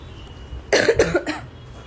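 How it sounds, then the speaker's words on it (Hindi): A quick run of three or four close coughs, sharp and loud against a quiet room. "मुझे तो खांसी आ रही है"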